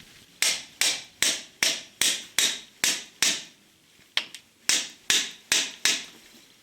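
A hammer strikes a 17 mm hex key seated in the oil check plug of a VW Golf 4 Cabriolet, giving about a dozen sharp metallic blows in a steady rhythm with one brief pause, loud and close with no speech.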